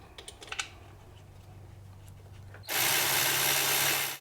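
Valve cover bolts are run back into the aluminum head of a 2005-2008 Honda Pilot engine, first with a few light metallic clicks and taps, then a steady loud whir of a power tool for over a second.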